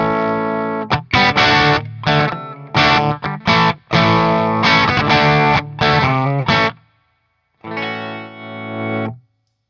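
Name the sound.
electric guitar played through Antares Overdrive pedal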